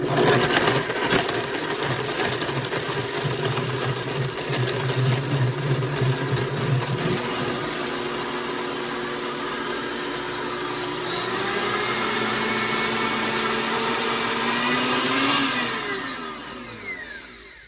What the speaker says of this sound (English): So let's blend this.